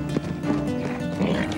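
Horse neighing with hooves clip-clopping on a private property, close and fairly loud, with a busy background mix and brief faint voice sounds.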